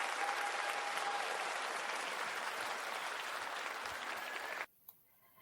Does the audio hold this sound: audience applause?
yes